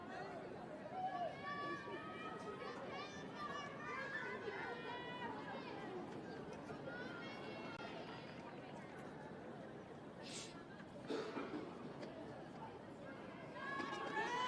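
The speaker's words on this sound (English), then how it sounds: "Bit of a crowd building up here now for Highland Park." A crowd of spectators murmurs and chatters steadily at a girls' varsity high school lacrosse game involving Highland Park, a faint, continuous babble with a couple of brief whistle-like peaks and a voice speaking over it.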